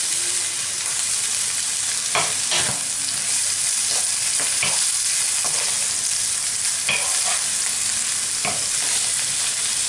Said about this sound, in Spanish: Las voy a saltear un poco. Con la cebolla le pongo un poco de sal.